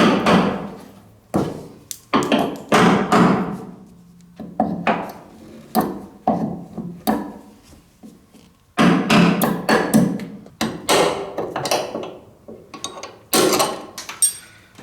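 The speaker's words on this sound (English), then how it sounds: "there's plastic bushings in here, and those just have to be driven out" Repeated hammer blows drive plastic bushings out of a door hinge on a 1973-1987 Chevy truck, loud sharp metallic strikes in irregular bursts with short pauses between volleys.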